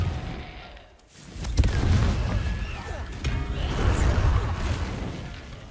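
Confringo blasting curses explode in Hogwarts Legacy combat as a series of heavy, rumbling booms and crashing bursts, loud and close, with whooshing spell effects between them.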